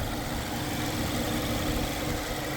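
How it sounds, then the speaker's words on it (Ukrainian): A 2019 Mazda 3 (BP) engine idling steadily, a continuous low rumble with broadband hum and no interruptions, close by and fairly loud. "Двигун працює рівно, без нарікань"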